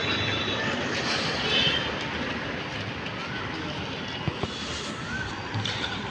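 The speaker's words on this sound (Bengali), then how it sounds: "উপর দিয়ে ট্রেন যাবে, ওটা ট্রেন রাস্তা" Train rumbling along an overhead railway line in Chennai that runs toward Bangalore: a steady, fairly loud broadband roar for the whole stretch, with a couple of sharp clanks near the end and no clear talk.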